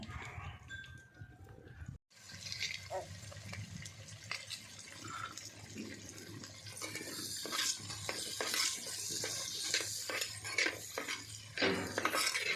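Dishes and cooking vessels are scrubbed and rinsed, with repeated metallic clinks, scrapes and clatters over running water that grow busier after a brief pause near the start, with no talking.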